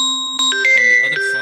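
Phone call tone on a cell phone, a series of clear electronic beeps and tones stepping through different pitches, loud and close with no voices.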